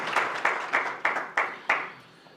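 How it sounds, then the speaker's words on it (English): A sparse round of applause from a small media audience in a Nairobi hotel meeting room, heard as six or so distinct, evenly spaced bursts of clapping that trail off into quiet. "Please, a round of applause."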